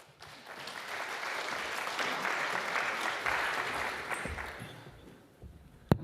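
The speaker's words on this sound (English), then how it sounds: "Let's give him a round of applause." Applause from a conference audience at a UK–China science and technology summit, greeting a guest speaker; steady clapping swells and holds for several seconds, then thins out near the end.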